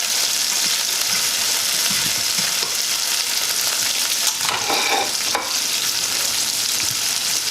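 Garlic fries in a pan while being cooked for Jamaican ackee and saltfish, giving a loud steady sizzle with a few scraping stirs and clinks near the middle, no talking.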